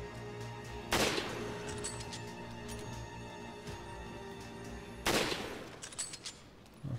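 Gunfire in the video game Resident Evil 5, two heavy blasts several seconds apart with ringing tails, heard faint against a steady humming game soundtrack.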